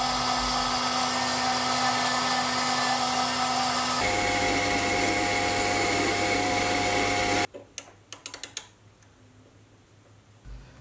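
A metal lathe turns down an 18 mm shank, giving a steady loud machine whine and hum that changes pitch partway through, then cuts off into quiet room tone with a few sharp clicks and taps.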